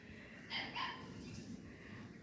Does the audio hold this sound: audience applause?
no